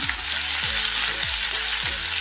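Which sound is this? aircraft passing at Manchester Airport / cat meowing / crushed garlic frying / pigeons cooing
crushed garlic frying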